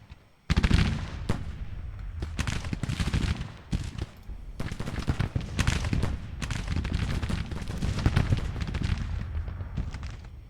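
Dense, rolling volleys of musket gunfire from a Civil War battle in the strategy game Grand Tactician: The Civil War, near and loud, crackling continuously with sharp individual shots over about ten seconds, with no talk.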